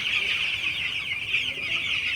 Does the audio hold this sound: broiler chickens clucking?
yes